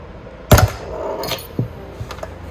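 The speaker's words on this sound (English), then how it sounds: "we're using this wrench here to take it off like this" A wrench takes a part off while a Swelltech magnesium alloy spring is being fitted, making a sharp metallic clank followed by a few lighter taps and clicks close by.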